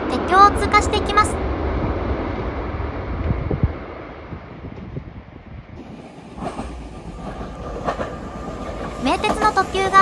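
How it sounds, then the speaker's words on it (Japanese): A Shinkansen bullet train roars across a steel railway bridge in a loud, continuous rumbling rush with rhythmic clattering and wind noise, fading briefly before more clacking bursts return. "新幹線も轟音を轟かせて鉄橋を通過していきます。"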